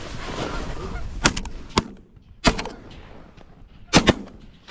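Shotgun blasts during a waterfowl goose hunt ring out in scattered sharp reports, a single shot, then a few more, with a pair in quick succession near the end, over goose honking and calls.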